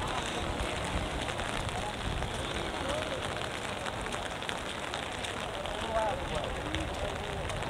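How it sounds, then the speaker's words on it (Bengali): Steady rain falls during a prolonged downpour in Gowainghat, Bangladesh, making a dense, even hiss of drops that holds without pause from start to finish. "সো সারা রাত সারাদিন বৃষ্টি হয়েছে এখনও বৃষ্টি"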